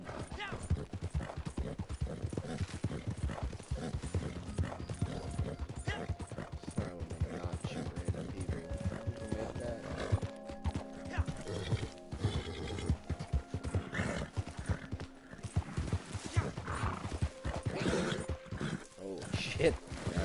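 Horse hooves clip-clopping at a gallop in Red Dead Redemption Online on a beginner horse, a steady rhythmic beat that runs the whole time under game music and effects.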